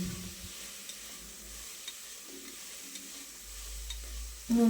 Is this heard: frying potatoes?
yes